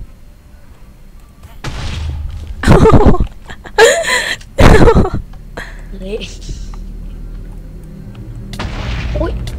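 Video game explosions in Minecraft Lucky Blocks go off as three or four sharp, booming bursts in quick succession, with excited talking and exclamations around them.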